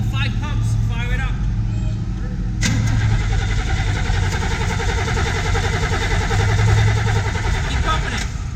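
An unmuffled 1966 Corvette 427 vintage racecar cranks and fires partway through, bursting into a loud, raw, rough idle that rumbles on steadily, with voices talking over it.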